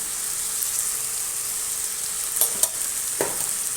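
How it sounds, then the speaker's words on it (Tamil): Ground onion and tomato paste frying in a hot pan, a steady soft sizzle with a few scraping stirs of a spoon near the end, close and alone without talk. "இப்போ இந்த வெங்காயம் தக்காளி அரைச்சி வச்சோம்ல அதை நான் போட்டுக்கிறேன்"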